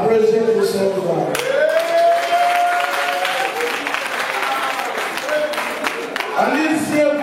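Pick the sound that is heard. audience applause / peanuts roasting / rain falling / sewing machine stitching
audience applause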